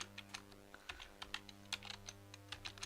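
Quiet, irregular keystrokes tap on a computer keyboard as a ChatGPT prompt is typed, with short bursts of clicks and brief pauses close to the listener, alone without speech.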